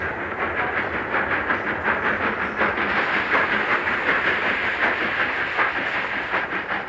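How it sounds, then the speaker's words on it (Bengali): A train rolls into a station platform as a radio drama sound effect, a loud continuous rumble and hiss with rhythmic clattering of wagons that holds steady for the whole stretch. "অবশেষে যথাসময়ে ট্রেন প্ল্যাটফর্মে এলো।"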